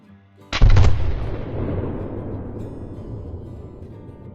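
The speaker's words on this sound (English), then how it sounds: "the fact that we actually got that shot off" A muzzleloader fires once during an axis deer hunt, a loud, close boom that rolls into a long decaying echo across open ground.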